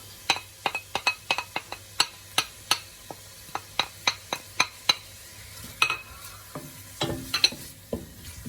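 Garlic and onion sizzle in a hot pan for a Kapampangan relyenong bangus recipe. A spatula scrapes and clinks against the pan in a quick, uneven rhythm, loud and close, with no talk.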